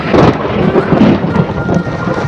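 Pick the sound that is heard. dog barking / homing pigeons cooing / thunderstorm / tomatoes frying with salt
thunderstorm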